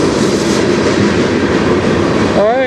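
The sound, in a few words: CN freight train passing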